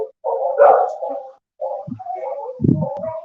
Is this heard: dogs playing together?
yes